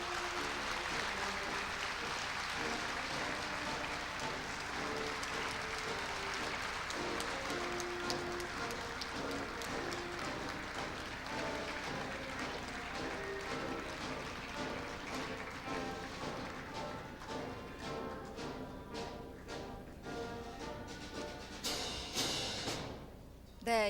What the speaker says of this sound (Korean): 자, 힘찬 박수로 다 같이 축하해 주십시오.